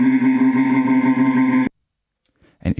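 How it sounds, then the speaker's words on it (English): A sustained, buzzy synthesizer loop from an Elektron Digitakt drum machine holds a rich steady tone with effects coloring, then cuts off abruptly into silence before a brief faint sound. "we have basically a synthesizer loop from a machine, which sounds like this"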